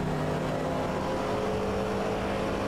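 Race cars in a drift championship round at the Red Bull Ring roar at full speed, with a loud, steady, dense engine drone holding throughout without pause.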